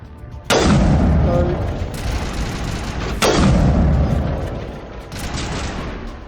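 Two loud, sharp sniper rifle shots in Mass Effect Legendary Edition, each a heavy boom with a long decaying tail, roughly three seconds apart, followed by a fainter third report.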